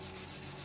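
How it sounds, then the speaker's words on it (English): Light feather sanding by hand across a painted wooden furniture piece to distress it, a soft, quiet, continuous rubbing with faint rhythmic strokes and no talk. "I'm just lightly feather sanding across my piece."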